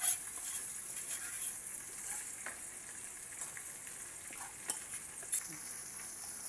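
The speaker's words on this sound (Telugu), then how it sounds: "మొత్తం వేసేసుకుంది దీన్ని ఇలా తిప్పేసుకోవాలండి మంచిగా" A sesame curry mixture is stirred in a pan, giving a steady, gentle sizzle and a soft scraping swish, with a few faint knocks of the spoon against the pan.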